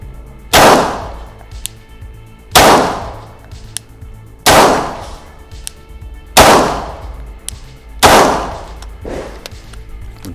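Glock 17 pistol fired at a target: five loud, sharp shots spaced about two seconds apart, each ringing out with a decaying echo, with no talking.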